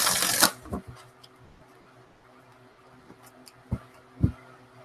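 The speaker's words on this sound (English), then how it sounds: "One more shuffle and let's see." Oracle cards being shuffled in a quick burst at the start, then a few soft taps and card flicks against a quiet background.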